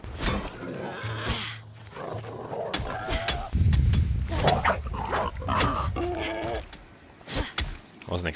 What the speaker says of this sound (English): wasn't expecting the frickin' pigs to have wolf bodyguards.